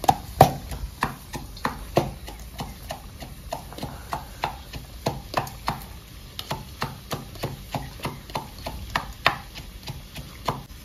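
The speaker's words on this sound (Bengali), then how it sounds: "পেঁয়াজগুলো দেখুন এইভাবে কাটতে হবে, একদম মিহি করে কাটছি কিন্তু পেঁয়াজগুলো।" A knife chops onions very finely on a board in a home kitchen, with a fast, steady run of crisp, close taps continuing throughout.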